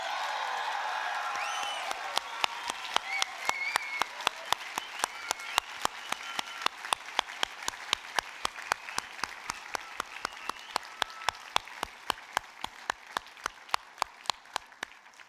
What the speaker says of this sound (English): Congratulations, and we can all cheer.